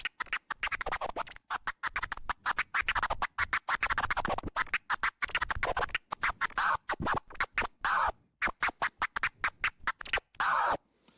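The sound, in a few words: vinyl scratching on a DJ mixer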